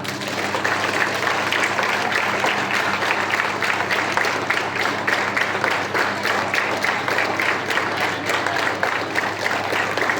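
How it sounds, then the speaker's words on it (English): Students at an outdoor school assembly clap together in a long, continuous patter of many hands, with faint regular pulses suggesting drill-style rhythm, holding steady for about ten seconds beneath a low background hum. "Clap."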